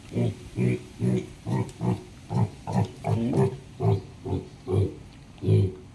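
Piglets on a pig farm grunt and oink in quick short bursts, a dozen or so close snorts following one another with no voices over them.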